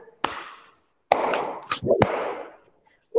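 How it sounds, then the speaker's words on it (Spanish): Children in a primary-school video call clap in three separate bursts, each a sharp, loud onset trailing into rough, echoing noise, with short silent gaps between them. "vamos a dar tres aplausos a la cuenta de tres"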